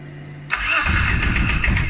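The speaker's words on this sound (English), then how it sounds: "If we let the little glow plug light go out, I'll show you it running." An Arctic Cat diesel engine cranks and catches after a quiet pause, firing up abruptly and settling into a loud, steady running rumble close by, in neutral after the glow plug warms.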